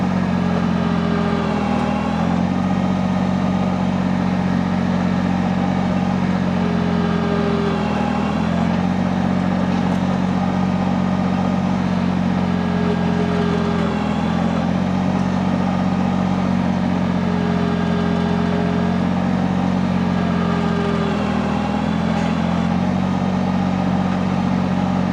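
Countyline PHD100 post hole digger engine labouring in clay: a steady, close, loud drone with a low mechanical hum, dipping slightly at regular intervals as the auger bogs down and recovers.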